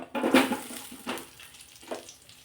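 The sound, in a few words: onion frying in oil in a kadhai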